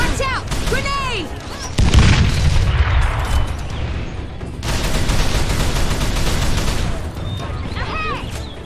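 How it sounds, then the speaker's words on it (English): Grenade explosion in Call of Juarez The Cartel video game, a deep loud boom followed by rumbling gunfire and fusillade, with voices shouting over the battle. "Watch out! Grenade!"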